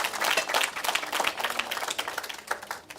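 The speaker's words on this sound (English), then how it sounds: "Can you give them one more round of applause?" A crowd applauding at a corporate sustainability report launch, dense irregular clapping at steady loudness for a few seconds, fairly close.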